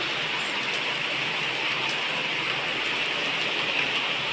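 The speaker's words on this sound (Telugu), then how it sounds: "వాన చూడండి ఎంత ఇదిగా వస్తుందో" Heavy rain pours down in a dense, steady hiss, loud and unbroken throughout with no voices.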